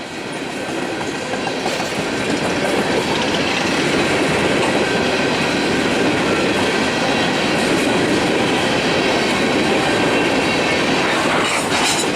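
A Union Pacific empty coal train rolls past close by, a continuous loud rumble of wheels on rail with clickety-clack and faint squeal, sustained throughout.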